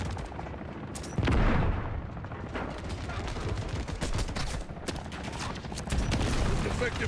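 Bursts of gunfire ring out in a Modern Warfare 3 campaign battle aimed at a helicopter, a loud sustained fusillade with sharper shots punctuating it, while a voice talks over the fighting.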